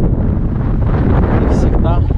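Strong wind buffets the microphone in a steady low roar, with a brief voice sound near the end.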